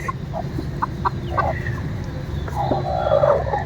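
Hens cluck in short, scattered bursts close by, with a longer run of clucking near the end over a low background hum.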